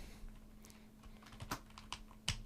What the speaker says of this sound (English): you could sit here and you could type your book name